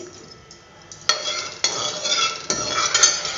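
Ghee sputters and crackles in a damp pot while Indian paneer curry is being made, with sharp bursts of sizzling popping in at intervals over a steady background hiss, fairly close and loud.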